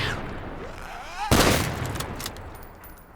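A single loud, close rifle shot in the video game No More Room in Hell 2, a sharp crack followed by a decaying tail, with brief voices before it.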